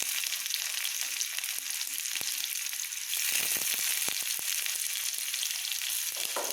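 Crushed shallots and garlic fry in hot tempering oil for a vegetable kootu, giving a steady, close, hissing sizzle with scattered sharp pops and crackles throughout.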